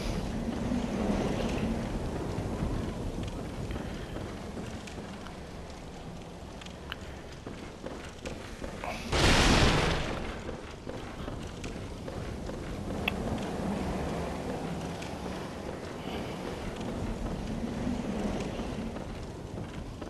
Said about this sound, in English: Why is it sounding windy all of a sudden?